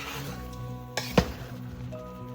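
Oxtail kare-kare with fish sauce is mixed in a pot over a soft, steady sizzle, with one brief close clink of a utensil against the pot partway through.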